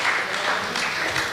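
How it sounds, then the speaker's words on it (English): Audience applause at a startup pitch competition, a brief, soft burst of diffuse clapping in a large room, lasting only a moment. "So big applause for our sponsor, Red Bull"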